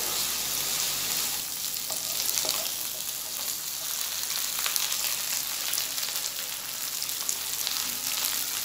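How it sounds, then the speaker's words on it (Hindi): Onion, garlic and ginger paste frying in a pan, giving a steady, close sizzle with bright crackling spatters and occasional stirring, with no voices. "जब तक ये ब्राउन नहीं हो जाएगी हम भूनते रहेंगे। लहसुन प्याज का पेस्ट जो है ब्राउन हो जाना चाहिए।"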